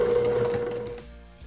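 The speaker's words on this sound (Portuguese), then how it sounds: "Finalizei aqui a costura do rebatido do meu forro, olha só, lá na máquina de costura." A sewing machine runs steadily while stitching the topstitched seam of a triangular bag's fabric lining, a close, even motor hum and needle rattle that slows and stops about two-thirds through, followed by a faint click.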